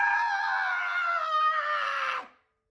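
Cartoon ponies scream in a single sustained, high, wavering shriek as they fall in a My Little Pony G5 episode. The scream holds for about two seconds, then cuts off abruptly into silence.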